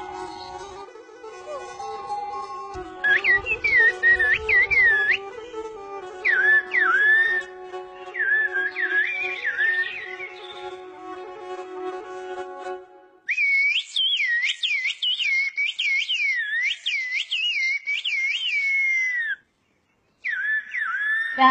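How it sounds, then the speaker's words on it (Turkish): Human whistling used to communicate in a rural Turkish village: bursts of sharp rising and falling whistled phrases, loud and fairly close, repeated in long sequences over a steady background hum, with brief pauses between them. "Islık bizim burada hayatımızın bir parçası gibi bir şey yani."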